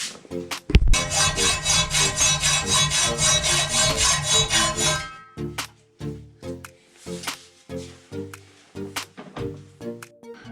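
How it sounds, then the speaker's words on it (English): A metal threaded rod is sawn by hand: a fast, steady run of rasping strokes for about four seconds, then slower, separate strokes with short gaps. It is close and fairly loud, with no talking. "Now I'm gonna cut the threaded rod about here"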